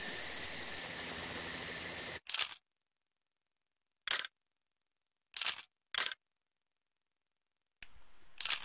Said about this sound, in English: I'm not liking this rain.